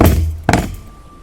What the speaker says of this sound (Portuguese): Um som surdo seguido de um tranco que sacudiu a canoa